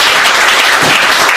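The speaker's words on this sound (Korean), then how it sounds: "동의하시는 분 박수 치세요." Loud, dense applause from a crowd of young people at a political talk session in Korea, a continuous wash of many hands clapping close by with no speech over it.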